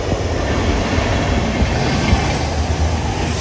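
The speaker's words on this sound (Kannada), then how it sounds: "ನೋಡಿ, ಟ್ರೈನ್ ಬರ್ತೈತೆ ಜಸ್ಟ್ ಇವಾಗ" A train runs close by on the railway track, a loud, steady rumble with rolling clatter from the wheels that fills the whole clip without pause.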